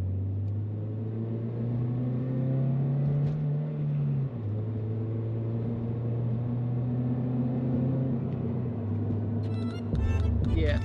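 Toyota GR86 or Subaru BRZ with a budget aftermarket exhaust, accelerating on a highway up to about 4,000 RPM; a steady, slightly raspy engine drone rises and shifts in pitch, close and continuous, with brief clatter near the end.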